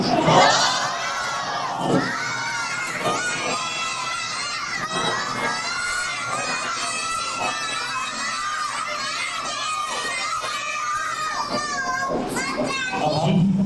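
A crowd of children at a Ramadan madrasa prize-giving chants a religious slogan in loud, ragged unison, with shouted calls and cheering voices filling the room throughout.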